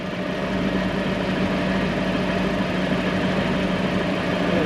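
A Toyota 1UZ V8 sterndrive boat engine idles low and steady at about 600 RPM, a continuous close rumble with even vibration and no talk over it.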